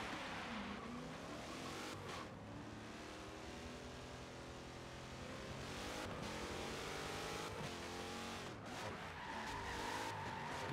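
Drift car in a pro-am competition run, engine revving hard with a sustained tire squeal as it swings into a drift, loud and continuous throughout, engine pitch rising and falling with the car's angle changes.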